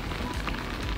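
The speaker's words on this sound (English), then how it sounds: "it's starting to drizzle" Light drizzle falling outdoors along a rail trail, heard as a soft, steady patter of fine drops that is faint and continuous, with no voices.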